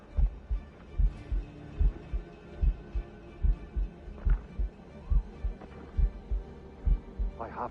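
A slow, regular heartbeat in the video game Assassin's Creed Rogue, about a dozen deep, thudding double pulses evenly spaced beneath a faint low hum, with scattered soft game sounds in the background.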